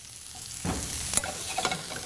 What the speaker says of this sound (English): If it's just at the right temperature, I get that lovely little sizzle.